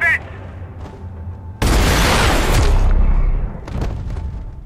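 Sniper rifle fire in the video game Max Payne 3: a single loud, long booming blast that rings out for over a second, followed by fainter game sounds, with brief speech near the start.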